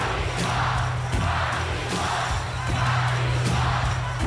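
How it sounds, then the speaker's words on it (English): A wrestling arena crowd roars during a WWF In Your House pay-per-view, a dense, steady wall of cheering and yelling that holds loud throughout, with occasional sharper shouts rising out of the din. "The crowd lose their minds though when Austin drives right up to the ring in his Stone Cold pickup truck."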